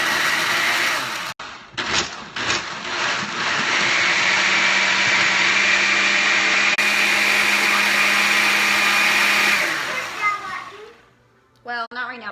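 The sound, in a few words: blender blending a smoothie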